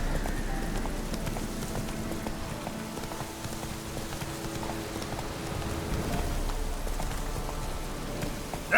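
Roach the horse galloping in The Witcher 3: Wild Hunt, steady rapid hoofbeats pounding under rain-like hiss and ambient game noise, continuous and fairly close.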